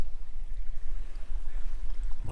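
A creek flows past Pisgah Covered Bridge in North Carolina, a steady close rushing and gurgling of water with strong low rumble, heard alone without talk.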